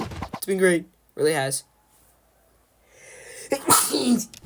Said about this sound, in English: I sneezed. I'm sorry about that.